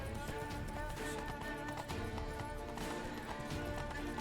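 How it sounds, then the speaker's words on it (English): Roach, Geralt's horse in The Witcher 3, trots steadily with rhythmic hoof clip-clops mixed into a dense, continuous game soundtrack and ambience. "Roach is a cool horse."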